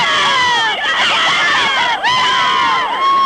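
Cheerleaders and fans at a high school football championship game, a loud, sustained wash of high-pitched crowd cheering and screaming with overlapping shrill voices, swelling and dipping briefly.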